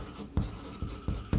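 Chalk or marker writing on a board during a Class 12 maths lesson on determinants, a few scratchy strokes with firmer taps about every half second, fairly close and alone.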